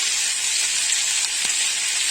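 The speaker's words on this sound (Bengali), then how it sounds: "পাস্তাটা আমি এবারে ভেজে নেব" Boiled pasta coated in white oil sizzles steadily in a hot pan, a continuous close bright hiss without pause and no voices.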